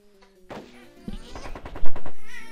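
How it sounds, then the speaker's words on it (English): Rapid gunfire bursts from the Sam & Max video game, a dense rattling volley of shots that builds to a loud peak, with a brief line of game dialogue before the shooting begins. "Oh, he shot him."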